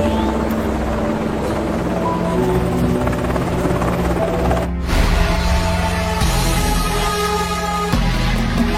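A helicopter in an action film set in a remote forest thumps loudly and continuously with dense rotor chop and engine whine, staying close and steady with no voices heard.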